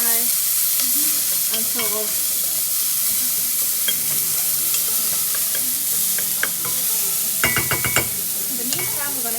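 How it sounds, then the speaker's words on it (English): Aromatics for a tomato pasta sauce fry in a pan with a constant close sizzle, punctuated by occasional utensil clinks and a few scrapes, while a voice speaks briefly over it. "I'm just going to let this fry"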